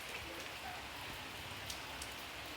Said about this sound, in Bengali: এই দেখো তোমরা, ঝিরঝির করে বৃষ্টি পড়ছে।